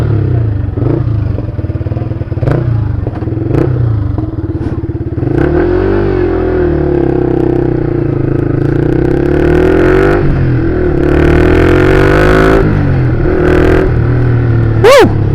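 An MT-15 150cc motorcycle engine on a test ride runs loud and close, revving up and down with rising and falling pitch and some mechanical clatter.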